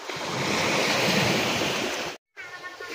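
Rough sea surf pounds a shoreline where fishermen cannot go out, a loud continuous roar of breaking waves with wind buffeting the microphone, briefly dropping out near the end.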